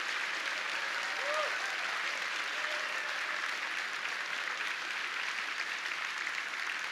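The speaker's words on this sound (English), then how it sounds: "How about another round of applause for the frontline workers at Mel Trotter Ministries?" Steady, sustained applause from an audience honoring frontline workers at Mel Trotter Ministries, a dense even wash of clapping filling the room for several seconds with a faint voice briefly audible underneath.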